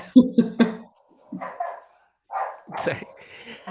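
A dog gives three sharp, close barks, followed after a pause by more scattered yips and barks.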